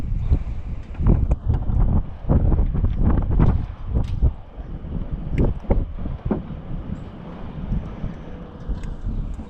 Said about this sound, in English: It's also very windy out here